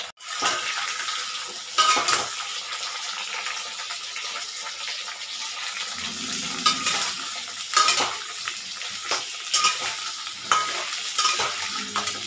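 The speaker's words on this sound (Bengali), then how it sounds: "এই একই তেলের মধ্যে ডুমো করে কেটে রাখা আলুগুলো ভেজে নেব।" Diced potatoes fry in oil already used for frying eggs, a continuous close sizzle broken by repeated scraping and stirring strokes of a utensil against the pan.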